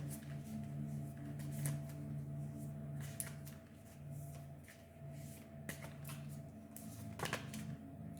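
Oracle cards are shuffled and drawn by hand, a quiet papery riffling and flicking with scattered sharper snaps, sustained close and soft over a faint steady hum.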